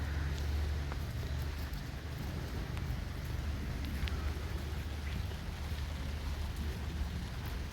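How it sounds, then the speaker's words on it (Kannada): Heavy rain falls steadily in a continuous dense wash of drops, with scattered louder splats, loud and close throughout without any talk. "ವರುಣರಾಯ ನಿಲ್ತಾನೆ ಇಲ್ಲಲ್ಲಪ್ಪ"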